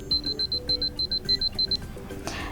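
Motorola Edge 60 Pro alarm clock melody: a bright, rapid electronic beeping tune in short repeated bursts, loud and close, playing alone before cutting off.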